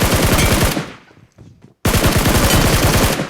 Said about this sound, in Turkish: Adam çocuğa sıkıyor